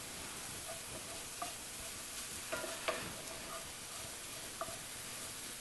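Applesauce being stirred in a skillet, with soft scraping and a few light clicks over a quiet, steady low simmer.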